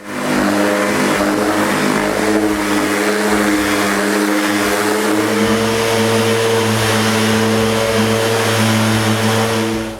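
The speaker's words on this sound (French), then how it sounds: "je sable plutôt pour enlever mes marques de crayon puis les taches sur le bois." Power sander running across a cherry-finished plywood floor to clear pencil marks and stains, a loud sustained motor drone with steady tonal hum, close and continuous throughout with no speech.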